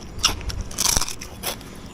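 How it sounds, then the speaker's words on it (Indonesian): Crispy, thin peyek, an Indonesian fried cracker, is bitten and chewed up close, giving three or four sharp, loud crunches and crackles in quick succession with brief pauses between. "Tipis banget dan crispy banget, kriuk-kriuk, enak banget."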